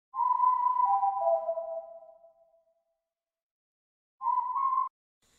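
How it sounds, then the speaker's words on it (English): A clear tonal whistle sounds alone in two bursts: a long descending call that slides down in steps and fades out, then after a silence a short rising note. "next thing we have is the whistle"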